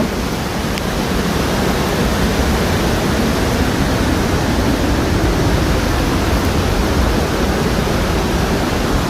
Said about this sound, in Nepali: यो यता तल खोला बगिराखेको छ